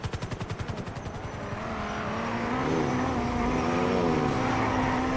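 Helicopter in a video game, its rotor chopping in a fast pulsing rhythm at first and then blending into a steady, loud turbine whine that holds on without any talk.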